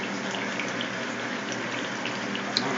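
Water drains through a large aquaponics siphon into a goldfish tank, a steady, close rushing gush with no talking.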